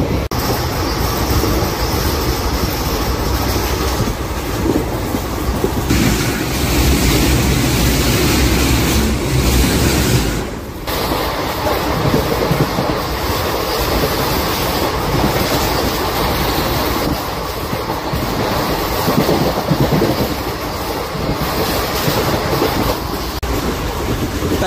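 The 12787 Nagarsol superfast express runs at about 110 km/h, a loud, continuous roar of wheels and carriage noise heard from onboard with rhythmic clickety-clack and brief shifts in tone as it passes structures.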